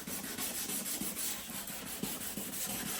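A car headlight being sanded with a restoration kit, giving a close, steady rubbing and scraping with faint rhythmic strokes and no talk.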